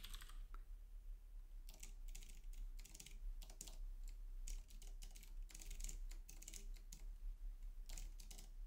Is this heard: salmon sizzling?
no